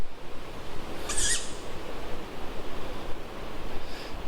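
An owl calls at night near the Llanina ruins at New Quay, a single clear hoot in the middle with a fainter call near the end, over a steady outdoor hiss like distant surf.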